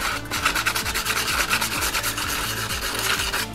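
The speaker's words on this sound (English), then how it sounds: "Then get yourself a piece of sandpaper and then just lightly sand" Sandpaper rubbed by hand over the face of a metal gauge mounting panel, rapid back-and-forth scratchy strokes in a steady rhythm, close and fairly loud with no voices.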